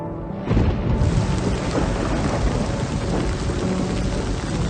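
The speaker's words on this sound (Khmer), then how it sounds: "ភ្លៀងខ្លាំងណាស់ត្រូវហើយ" Heavy rain pours down in a dense, constant roar, with low rumbling thunder rolling underneath throughout.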